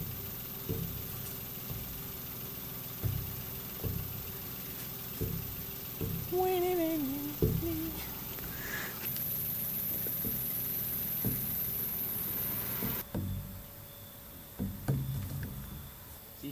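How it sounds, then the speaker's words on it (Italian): A vehicle engine left idling to generate electricity at night, a steady low hum with periodic soft knocks, joined by brief chirps and a high whine partway through, with a quiet voice now and then. "accendermi il motore per la corrente"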